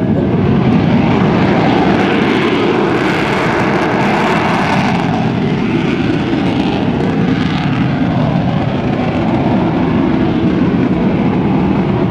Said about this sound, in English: The Legacy Flight is composed of Navy aircraft and Marine aircraft